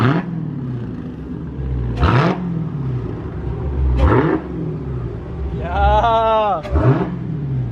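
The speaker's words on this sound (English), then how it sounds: "give this thing a rev real quick" A 2016 Dodge Hellcat bought from Copart revs hard four times in close succession, each sharp, loud blip dropping back to a rumbling idle, with a brief voice and a whine between revs.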